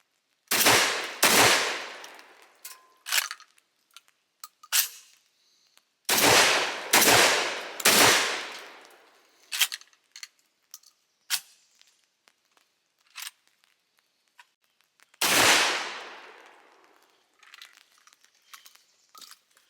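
An AK-pattern shotgun firing outdoors, loud sharp blasts with echoing tails, single shots and quick pairs spread across the span with long pauses between volleys and faint clicks and handling noise in the gaps.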